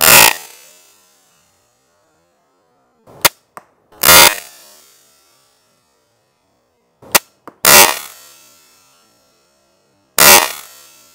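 A Bat Reverse pistol crossbow shoots bolts in separate loud, sharp snaps, each trailing a short buzzing decay, with a few faint clicks of handling or cocking between shots in otherwise quiet surroundings.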